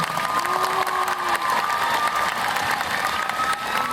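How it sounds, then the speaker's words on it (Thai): A crowd at a fan meeting event in Bangkok applauds and cheers continuously, dense clapping mixed with high-pitched shouts and squeals, loud and sustained throughout. "ขอเสียงปรบมือให้พวกเขาทั้งสองคนอีกครั้งหนึงค่ะ"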